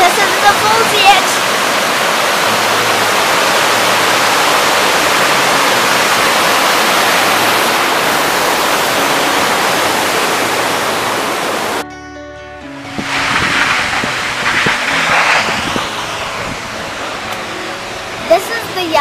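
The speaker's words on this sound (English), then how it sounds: "The Fitzroy Falls are 81 meters high." Fitzroy Falls, an 81-metre waterfall, roars as a steady loud broadband rush of falling water for most of the stretch, then cuts to a quieter, more distant wash of water for the last several seconds.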